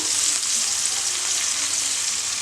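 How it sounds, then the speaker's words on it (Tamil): Curry leaves crackle and sizzle in hot oil for a homemade ashwagandha hair oil, a steady, close, dense frying hiss that holds without a break and with no voices. "அடுத்து கருவேப்பிலையை போடுறேன் கருவேப்பிலையை போட்ட உடனே மிக்ஸ் பண்ணிக்கணும்"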